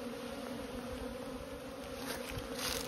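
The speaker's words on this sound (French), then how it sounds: "Vous allez voir une belle activité sous les ruches." Honeybees swarming around the hive entrances on a mild 13-degree day, a steady, dense buzz of many insects close by, continuous and fairly even with no talking.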